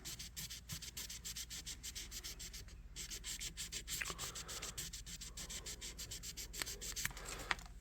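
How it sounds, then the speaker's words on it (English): Rhythmic back-and-forth scraping of sandpaper across the metal of a Boker USA electrician's knife, quiet and close, repeating in steady hand strokes throughout. "And then you can go to an even finer sandpaper as you go along."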